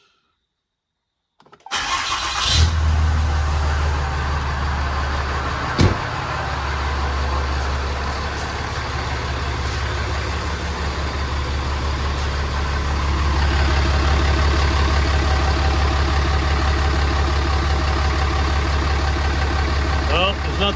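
A Cummins 6.7 diesel truck engine cranks and fires after a moment of silence, then settles into a loud, steady rumbling idle that continues throughout, swelling slightly later on.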